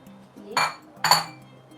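Bowls and dishes clinking in a home kitchen while making dal and onion pickle, two sharp ceramic-and-metal knocks about half a second apart, close and moderately loud over quiet room tone.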